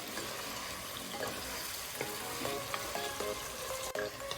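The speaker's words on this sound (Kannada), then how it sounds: "ಸೊ ಇದನ್ನ ಸ್ವಲ್ಪ ಚೆನ್ನಾಗಿ ಮಿಕ್ಸ್ ಮಾಡ್ಕೊಳ್ಳೋಣ." Masala mixture stirred and frying in a pan for a green mutton biryani, a steady sizzle with intermittent scraping of the spoon, close and continuous with no talk.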